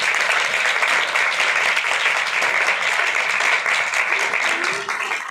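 A church congregation gives loud, sustained applause, a thick continuous wash of clapping that fades a little at the end.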